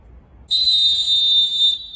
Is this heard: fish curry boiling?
no